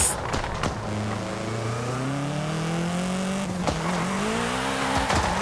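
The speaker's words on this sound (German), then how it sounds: "du hörst den Turbo dann auch so dauerhaft einsaugen" An Abarth 595 Esseesse turbo hatchback in the racing game Forza Horizon 5, a revving engine tone climbing and falling through gears with a constant airy turbo intake whoosh and a few sharp clicks, no talking.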